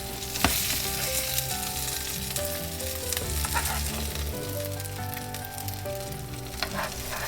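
Surmai (mackerel, Indian style) fish frying crisp in a pan, a steady close sizzle with scattered spatter pops and occasional stirring clinks throughout, no voices.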